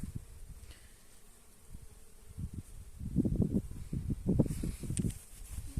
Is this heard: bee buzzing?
yes